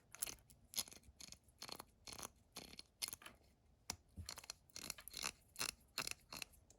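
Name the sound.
1930s Craftsman ratchet clicking, recently lubricated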